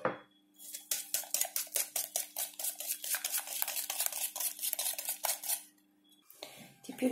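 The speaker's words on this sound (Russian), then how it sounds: "И взбиваем все венчиком." A hand whisk beats red velvet cake batter in a bowl in fast, even strokes, each one clinking against the sides. The whisking stops briefly near the end.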